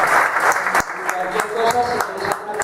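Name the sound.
audience applause at welding class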